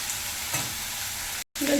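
Onions frying in a pan for a mutton and chicken red curry, giving a steady close sizzle throughout, broken by a brief silent gap near the end.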